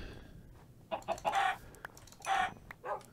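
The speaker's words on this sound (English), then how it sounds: "That's a chicken." A Minecraft chicken clucks in several short bursts, a few quick clucks followed by a longer run and then two more, fairly close against a low hiss of background noise.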